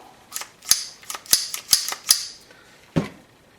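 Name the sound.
function check clicks of a Browning Buckmark .22LR pistol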